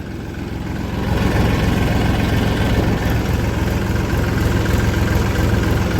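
A tractor moving slowly along a forest road on a trench-hauling job gives a loud, steady, low engine rumble that builds over the first second and then holds even, with no talking.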